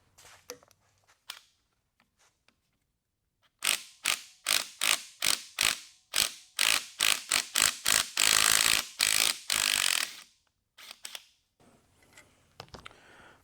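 A wrench works a rusty bolt loose on an old Ford flathead engine: quiet fiddling first, then a close, loud run of rapid ratcheting clicks in quick bursts, ending in a few scattered clicks and handling noises.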